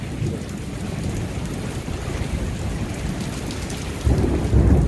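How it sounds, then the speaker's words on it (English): Cold rain pours down during a severe spring thunderstorm, a dense continuous hiss and patter close by, swelling louder toward the end with gusts of wind. "This is really cold rain."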